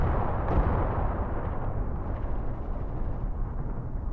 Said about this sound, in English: All the machine guns shooting. Artillery in the distance.